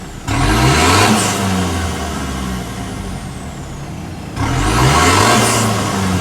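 A car engine, a 2.2 after fuel injector repair, revs hard twice as the accelerator is pressed, each loud surge rising in pitch then easing back to a rough idle, close up.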